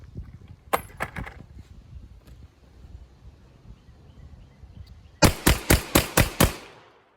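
A shotgun loaded with six law enforcement slugs fires at a range: one early shot, then a rapid string of six loud, evenly spaced blasts near the end, over a quiet outdoor background.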